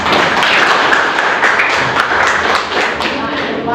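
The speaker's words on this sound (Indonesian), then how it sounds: "kasih tepuk tangan" Applause from a crowd, steady dense clapping lasting several seconds at an even loudness, with some voices mixed in.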